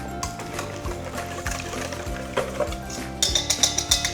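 Bread pudding ingredients with rum, a pinch of salt, vanilla essence and cinnamon being stirred and mixed in a bowl, a steady scraping and clinking of utensil against the dish that grows a little sharper near the end.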